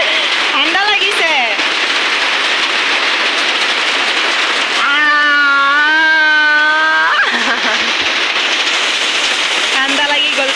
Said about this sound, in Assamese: এতিয়া বৰষুণো কমি গ'ল।